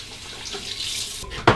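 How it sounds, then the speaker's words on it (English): A tap runs steadily into a sink while a razor is rinsed after a shave, a continuous close hiss of water ending with a sharp knock. "Quick rinse, a final rinse. First hot water, then cold."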